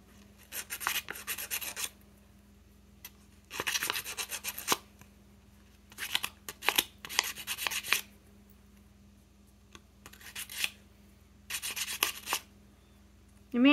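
Bursts of abrasive rubbing, a sander or sandpaper scraping back and forth in several separate passes with short quiet pauses, close by over a faint hum.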